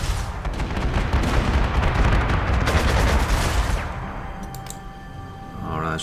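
Rapid gunfire from a fighter plane strafing a target in the WWII strategy game Panzer Corps 2, a loud dense burst of shots and booms lasting several seconds that cuts off and fades into quieter tones.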